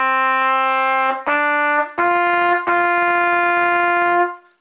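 A solo trumpet plays the opening of Mary Had a Little Lamb in four clear, sustained notes, each separated by a short break, ringing close and bright.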